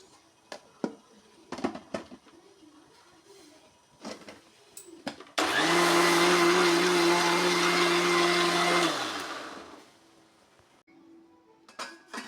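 Mixer grinder grinding raw mango chutney with salt: after some clattering and knocks, the motor kicks in with a loud, steady whine for about four seconds, then winds down and stops, followed by more handling clatter.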